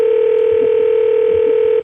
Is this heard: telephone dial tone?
yes